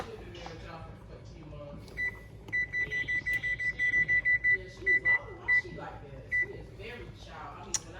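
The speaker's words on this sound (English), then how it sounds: "Set the timer." A kitchen timer is set during the cooking of creamy garlic chicken in the oven. It gives a quick run of short, bright electronic beeps in a steady rhythm, with someone talking around them.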